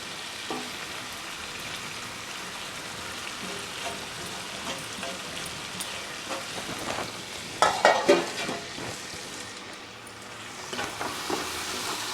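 Masala with freshly ground cinnamon and clove is sautéed for mutton biryani. It gives a steady sizzle and frying hiss, with scraping stirs and a few louder spoon clatters near the end, and no voices.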